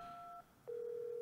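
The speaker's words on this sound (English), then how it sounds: "Phone?" In-game telephone tones from Resident Evil 7 ring out clearly and alone: a two-tone dual-pitch signal, a short gap, then one steady higher tone that holds to the end.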